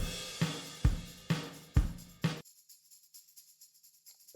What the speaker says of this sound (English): And then we go to the chorus, the tambourine speeds up.